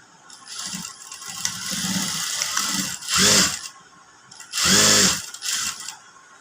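A sewing machine stitches a frock in two short, loud runs of motor whirring, separated by quieter fabric handling and clicks.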